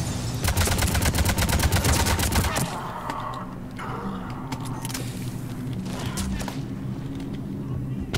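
M8 Avenger assault rifle from the Mass Effect 3 multiplayer game firing a loud, rapid automatic burst for over two seconds, then a steady game soundscape of low rumble and scattered effects, with a voice talking.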